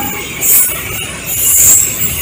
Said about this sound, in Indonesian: Kereta api kontainer berjalan pelan karena persiapan masuk jalur double track di Cakung.